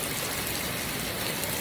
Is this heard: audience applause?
no